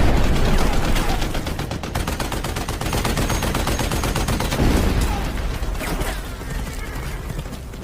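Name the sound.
gunfire and cannon shots, from a film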